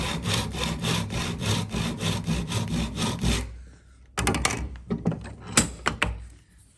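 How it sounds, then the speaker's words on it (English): Tenon saw cutting wood for a bridle joint, a fast even run of loud rasping back-and-forth strokes, then a pause followed by a few scattered knocks and short scrapes nearby. "I'm going to take my tenon saw, pop it in the notch"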